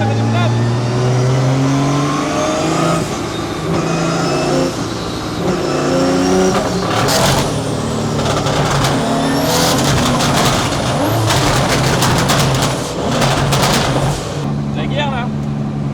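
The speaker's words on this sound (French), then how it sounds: "Voilà, Augustin, c'est une voiture de drift." BMW E90 drift car on a dyno, engine screaming at sustained high revs with harsh rising pulls and crackling bursts, loud and close, while people talk over it.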